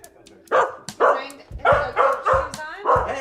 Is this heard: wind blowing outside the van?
no